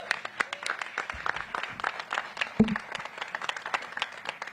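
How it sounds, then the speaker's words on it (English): An audience applauds at a mayor's event on food access, with moderate scattered clapping throughout and a low thump partway through. "So let's give them all a big round of applause."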